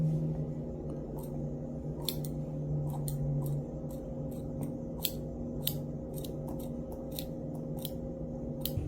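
Steel hairdressing scissors snip through hair for a hime cut, each crisp close-up cut falling in an uneven series of about a dozen snips over a steady background hum.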